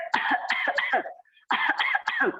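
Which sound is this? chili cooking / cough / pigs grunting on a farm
cough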